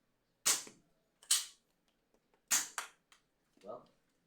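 Nerf Alpha Strike Fang QS-4 blaster firing darts: four sharp, fairly quiet snapping pops spaced about a second apart, some with a brief rattling tail, and a faint voice murmur near the end.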